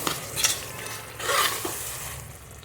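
Ingredients frying in ghee on a low flame for kushka rice, a soft close sizzle with two swells of stirring and spoon scraping against the pan.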